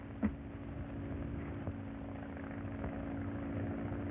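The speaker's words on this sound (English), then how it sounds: "Those planes are going to take us back home" Propeller airplanes droning overhead in an old film scene, a steady, moderately distant mechanical hum with a faint thump near the start.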